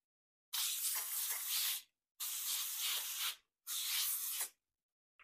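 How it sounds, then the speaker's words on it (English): Three separate bursts of nonstick cooking spray (avocado oil) hiss up close, each lasting about a second, with short silent pauses between them. "we're also gonna spray it with some nonstick cooking spray."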